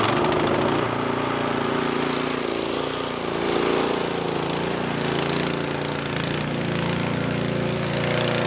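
The engine of a Troy-Bilt two-stage snow blower runs on choke while warming up. Its loud, steady, rough chugging stays close for the whole stretch, and no voice is heard.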